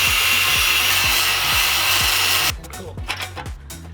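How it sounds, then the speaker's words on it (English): Angle grinder cutting through a rounded-off track rod fitting on a car, a loud steady high-pitched grinding whine over a rhythmic low thumping, then stopping abruptly as softer clattering and rattling follow. "I'm going to have to get the angle grinder out on that one"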